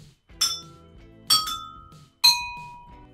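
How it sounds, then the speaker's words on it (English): Three separate taps on water-filled drinking glasses each ring out as a clear bright clink that fades slowly, each at a different pitch and spaced about a second apart. "Now, try tapping the glasses again."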